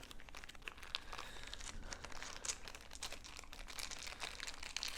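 Quiet crinkling and tearing of packaging as board game dice are unwrapped, with soft rustling crackles continuing close by and no talking.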